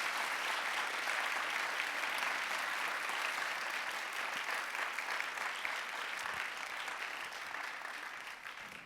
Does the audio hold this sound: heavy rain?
no